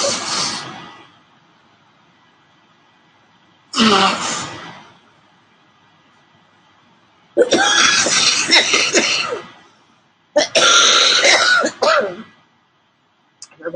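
A person with a cold coughs and clears the throat in two separate bursts, followed by two longer stretches of loud, rough, close coughing, with quiet pauses in between.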